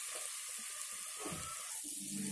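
Ginger, garlic and green chillies fry in hot oil, giving a soft steady sizzle with faint stirring noises, quiet and close, with no talking.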